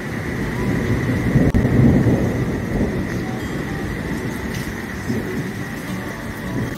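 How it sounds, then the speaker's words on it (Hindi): Strong stormy wind roars outside in a mountain village, a dense, steady rushing that swells briefly and stays loud throughout with no talking. "बहुत तेज़ हवा चल रही है अब।"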